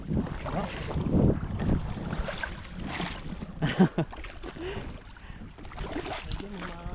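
A strong river current rushes and churns in a continuous wash of water noise, with people talking over it throughout.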